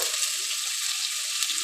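Onions frying in a pan for a potato and brinjal curry, a dense, even hiss of sizzling oil that holds steady and close for the whole moment, with no voices.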